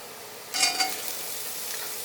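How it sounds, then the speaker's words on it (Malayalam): Cauliflower tipped into a hot pan for a Kerala-style thoran, a brief soft sizzling burst with a light clatter, then a faint hiss fading quietly. "ഇനി ഇതിലേക്ക് കോളിഫ്ലവർ ചേർക്കാം"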